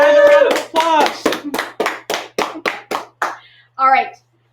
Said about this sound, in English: Miss Hine, let's give a round of applause.